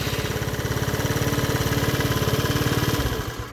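Lance Cabo scooter engine idling steadily after a start, with a fast regular putter close by throughout, dropping off and falling quiet near the end.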